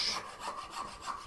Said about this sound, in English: are you cutting on the push or the pull with that saw? Push.